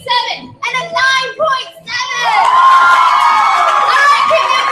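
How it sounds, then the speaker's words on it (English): At a youth poetry slam bout, the crowd bursts into loud cheering and whooping, with excited young voices shouting in short bursts before a sustained high-pitched cheer swells. "All right, keep the applause going for Marian."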